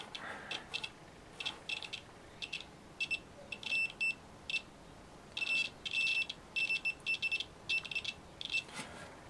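A multimeter continuity tester probing the ground terminal of a vintage heater plug, giving short, faint, high electronic beeps in irregular bursts and clusters, some stuttering, over quiet background.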